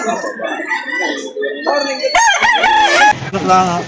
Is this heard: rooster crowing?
yes